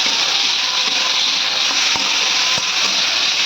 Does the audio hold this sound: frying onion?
yes